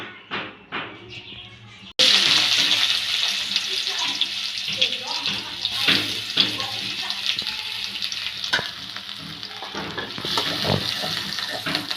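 Oil hits a hot karai with a sudden loud hiss, then settles into a steady, dense sizzle with scattered pops and crackles, close by, while a fish and sweet pumpkin curry gets under way.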